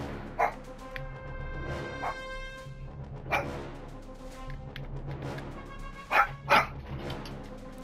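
Several dogs bark in scattered, sharp yaps and woofs, some nearby and some farther off, over a steady background hum.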